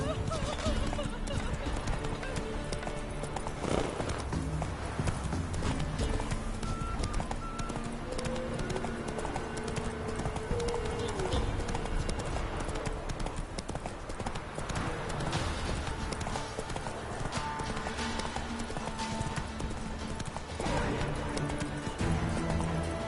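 The horse Roach gallops in The Witcher 3 with rapid, steady hoofbeats. The hooves sit under a dense layer of game music and ambience, and a voice speaks over them.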